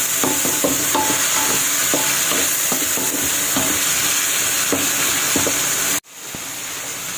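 Chicken seasoned with pepper being stirred in a hot pan for a Filipino kinamatisang manok, a steady sizzle broken by repeated close scrapes and clicks of the spatula, ending with an abrupt cut.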